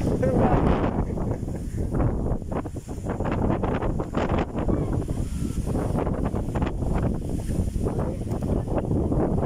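Strong gusting wind buffets the microphone on a hilltop above choppy sea at Culasi, Ajuy, Iloilo, a loud continuous roar that rises and falls, with people talking beneath it.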